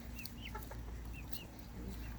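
Chickens cluck faintly at an old, muddy chicken coop on a rainy day, with scattered short calls over a soft outdoor background hiss.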